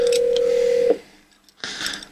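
A telephone rings indoors during a computer repair, giving one steady electronic tone that cuts off, a short near-silent pause, then a burst of noisy sound.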